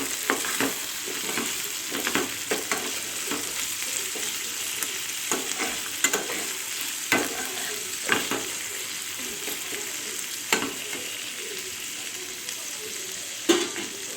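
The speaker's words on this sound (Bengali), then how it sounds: "পেঁয়াজটা কিছুক্ষণ ভাজা ভাজা হোক" Onions sizzle steadily in a hot pan, with frequent scraping clinks of a spatula stirring them, close and continuous.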